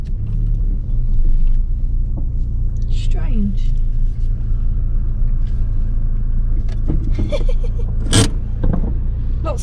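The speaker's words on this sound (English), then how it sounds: "Every time you put your foot back down on the clutch as well, the revs go up." A Rover 45 car engine drones steadily throughout while driving, with a constant low rumble, occasional clicks and faint voices over it.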